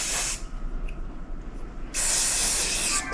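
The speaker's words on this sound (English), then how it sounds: "Some spray on that." Glue accelerator sprayed from an aerosol can onto wood in a woodworking build: two loud, close hissing bursts, a short one at the start and a longer one later, with a quieter gap between.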